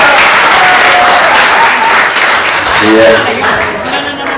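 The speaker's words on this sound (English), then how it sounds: "Round of applause for the best man" Wedding guests applaud the best man at a reception, a loud burst of clapping close by that fades slightly, with a voice briefly speaking over it.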